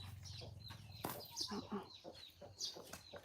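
Chickens cluck and squawk close by in a series of short, uneven calls over a low background rumble, with no talking.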